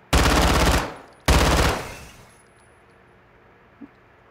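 Two loud, sharp bursts of gunfire from a weapon fired at a wall in Call of Duty, each a dense rattle followed by a ringing decay, then a faint click near the end.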